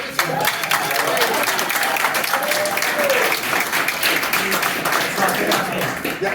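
Crowd applause for Al Baldessaro at a debate watch party at Trump headquarters in Manchester, New Hampshire: dense, sustained clapping filling the whole stretch, with scattered voices and cheers mixed in.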